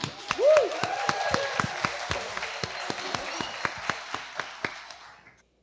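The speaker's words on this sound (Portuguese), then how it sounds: "Uma salva de palmas." Scattered, fairly sparse clapping from a small audience at a panel event on public policy for peripheral regions, with a brief voice sound near the start and the claps thinning out toward the end.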